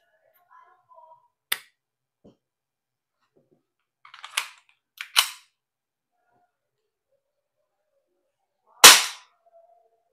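A coyote-colored WE Glock 17 Gen 5 gas blowback airsoft pistol fires several sharp, snappy shots at irregular intervals, with faint mechanical clicks between them in an otherwise quiet room.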